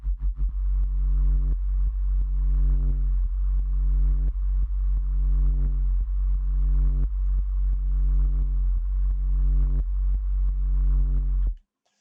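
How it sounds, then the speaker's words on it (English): Minimal drum and bass synth bass built from two FM sine-wave oscillators, one modulating the other under LFO control, soloed: a loud, deep sustained bass with rhythmic pulsing retriggers throughout, ending abruptly. "So it's just two sine waves, oscillator A taking FM from B, and then this is being controlled by an LFO."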